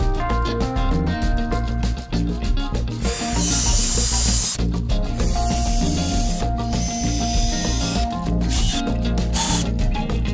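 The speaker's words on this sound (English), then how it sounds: "My countersink bit." A countersink bit drills while a jig is being built, a loud, close whirring with bursts of harsh grinding that come and go in short surges, with no voices.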